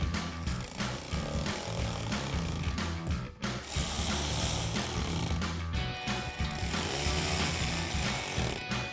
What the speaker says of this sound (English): you're gonna grab a T20 torque socket to tighten those down